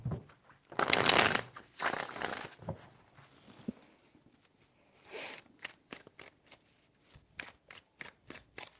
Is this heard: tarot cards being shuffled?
yes